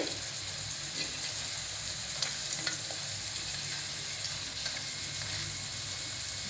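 Raw banana slices for a vegetarian fish-style fry sizzle steadily in hot oil, a constant crackling hiss with a few brief louder pops and light stirring scrapes, no voices.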